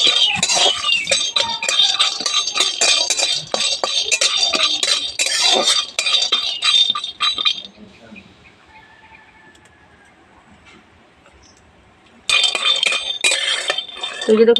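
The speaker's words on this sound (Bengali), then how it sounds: "বাদামটা আমি খুব বেশি ভাজিনি একটু এলে নিয়েছি" Peanuts are stirred and lightly roasted in a kadai, producing dense, continuous scraping and rattling for several seconds, then a quiet pause before the clattering stirring resumes.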